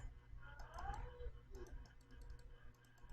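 Faint, sparse clicks from a basic A4 Tech computer mouse, small ticking taps scattered over a low background hum, with a brief murmur of a voice partway through.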